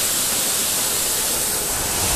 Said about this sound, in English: Now we're sitting right on top of what is this fall right here.